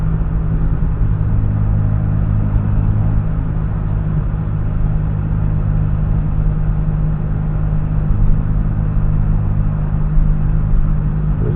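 A car drives through a refinery dock on a quiet holiday weekend, its engine a steady low rumble with road noise, continuous and close throughout, with a slight swell near the middle.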